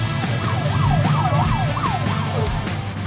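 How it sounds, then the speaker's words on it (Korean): A wailing ambulance siren sweeping up and down repeatedly over the steady hum of highway traffic, fairly close and loud. "구급차가 뒤에 삐뽀삐뽀 오더라고요"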